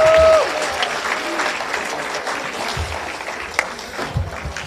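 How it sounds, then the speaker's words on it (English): Applause from a high school International Day audience, a loud burst of clapping at first that settles into a steadier, softer patter with a few sharper claps near the end. "let's have another round of applause for the excellent,"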